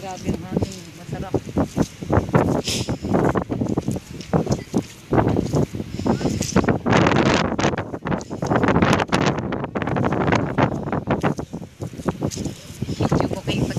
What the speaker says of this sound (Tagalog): Dito talaga grabe ang hangin.